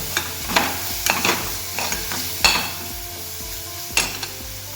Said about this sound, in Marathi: आला लसूण पेस्ट या सगळ्या जरा बरा परतून घेतलो